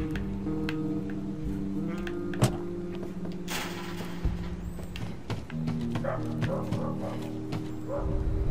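A dog barks on the street in the war survival game This War of Mine, several sharp, moderately distant yaps and whimpers at irregular intervals over a steady ambient background.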